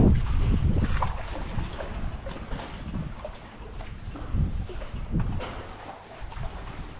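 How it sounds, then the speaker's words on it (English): A steady roar of wind and heavy waves surrounds a boat at sea off Cape Race, Newfoundland, during a winter storm before dawn, with the rush of water and wind buffeting the microphone, loud and continuous throughout. "It's still windy out there and the waves are high,"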